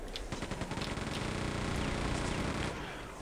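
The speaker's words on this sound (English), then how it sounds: "Get out the chain gun." Rapid chain gun fire from the video game Quake 2, a continuous stream of loud, close mechanical shots that runs for about three seconds before cutting off.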